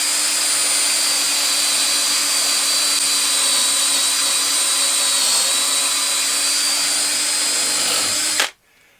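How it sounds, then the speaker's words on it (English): A power drill bores a pocket hole in wood through a Kreg pocket hole jig, KPHJ320-INT, running loud and steady at high speed for about eight seconds before cutting off abruptly. "I insert the drill bit until it touches the wood, and then I retract it a bit and I start drilling."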